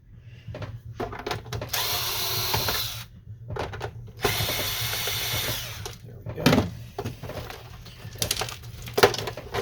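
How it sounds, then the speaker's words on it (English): Screws are backed out of a Canon Pixma MG5320 printer with a powered driver, giving several bursts of buzzing and ratcheting of a second or two each, separated by short pauses and handling clicks, close up. "we're going to remove the 2 screws on this side"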